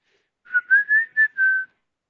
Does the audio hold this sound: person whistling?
yes